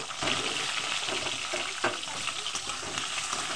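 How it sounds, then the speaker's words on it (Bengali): Potato pieces dropped into hot oil in a home kitchen sizzle and crackle steadily, a dense, even frying hiss close by with no talk over it. "আমি তেলটা গরম করে নিয়েছি, আর এখন আমি আলুটা দিয়ে দিচ্ছি। আলুটা ভেজে নেব।"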